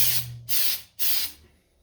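Three bursts of hissing aerosol spray from a can of glitter spray, each about half a second long with short gaps between them, close and loud, with no talk.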